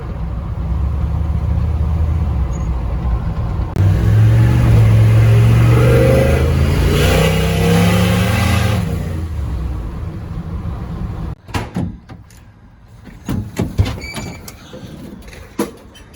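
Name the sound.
turbo truck accelerating hard after a touch of throttle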